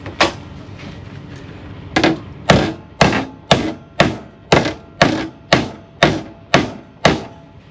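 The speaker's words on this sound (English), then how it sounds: "Hammer." Loud, sharp hammer blows ring out on metal during a car sill repair, a single strike followed by a pause, then about ten evenly spaced hits in a steady rhythm.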